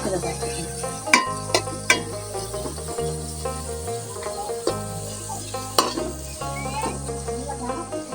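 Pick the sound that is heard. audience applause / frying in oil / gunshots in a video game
frying in oil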